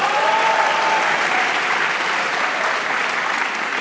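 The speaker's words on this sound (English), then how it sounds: "please a round of applause as well" Applause at an MBA and EMBA graduation ceremony, a large audience clapping in a loud, sustained, even roar that holds steady for several seconds without speech.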